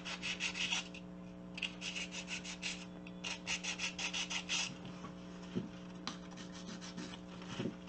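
Wet sanding of cement filler by hand with 400-grit sandpaper: bursts of quick scratchy rubbing strokes, close and fairly quiet, with pauses between bursts over a steady low hum.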